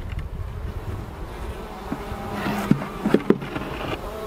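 Honeybees buzz faintly around extracted hive frames outdoors, a low, steady hum with a few louder passes close by.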